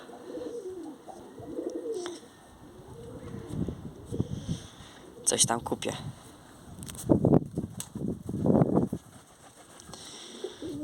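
Pigeons coo in a loft during breeding season, soft repeated low coos near and far, while someone talks over them at times.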